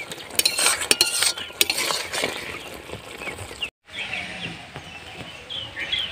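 Crab curry with ground garam masala stirred in a pan: brisk metal scraping and clinking of a spoon over light sizzling, busier at first, then a brief gap and quieter stirring, with no talking.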